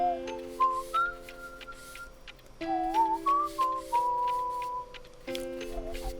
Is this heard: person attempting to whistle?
yes